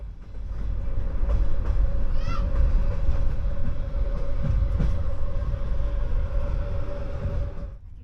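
A train rumbles steadily as it rolls through rail yards toward Astana railway station in Kazakhstan, with a sustained low roar, a brief squeal of wheels on track and occasional clanks from the carriage.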